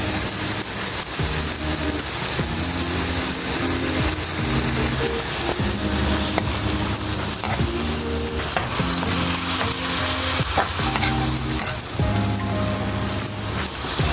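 A splash of water goes into a pan of garlic buttered shrimp, which keep up a loud, continuous sizzle and crackle for the whole stretch over a steady tonal background.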